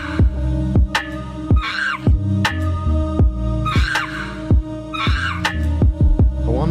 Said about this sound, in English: I wanna just put like a bunch of reverb on this fucking monkey.